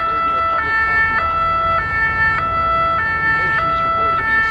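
An ambulance siren wails close and loud, alternating steadily between two tones in a regular hi-lo pattern over faint traffic rumble.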